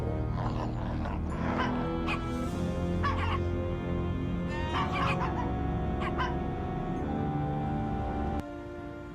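Several puppies bark and yip in quick overlapping bursts in Wallace & Gromit's Grand Adventures, with clucking fowl mixed in, fairly close and steady before a sudden drop near the end.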